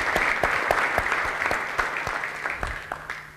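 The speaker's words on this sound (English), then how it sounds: "just a round of applause to congratulate them on the job well done" A conference audience gives a round of applause, with distinct nearby claps standing out over a thinner spread of clapping that gradually tapers off.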